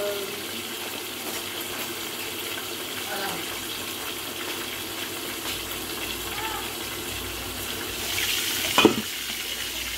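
Tilapia cooks in a pan with a steady close sizzle, broken by light utensil scrapes and a brief louder splash or clatter near the end.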